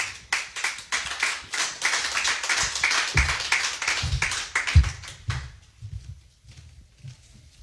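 A church congregation claps in acclaim during a service, steady rhythmic hand claps at close range that thin out and fade toward the end, with no talk over them.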